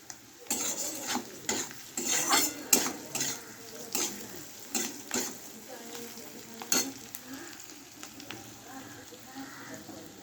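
Pointed gourd fries in a pan with a steady sizzle, broken by repeated scraping and clattering of a stirring utensil in quick, uneven bursts.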